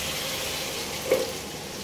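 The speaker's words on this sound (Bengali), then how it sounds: "এবার আমি এর মধ্যে যে আমার ম্যারিনেট করা চিকেনটা ছিল, যেটাকে আমি 15 থেকে 20 মিনিট ম্যারিনেট করে রেখেছিলাম লেবু, হলুদ আর নুন দিয়ে, সেটাকে ছেড়ে দেবো।" Marinated chicken coated in lemon, turmeric and salt goes into a frying spice paste, giving a steady low sizzle throughout with a brief soft bump of added noise midway, no voices.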